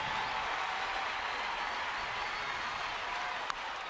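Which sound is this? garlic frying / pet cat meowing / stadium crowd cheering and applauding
stadium crowd cheering and applauding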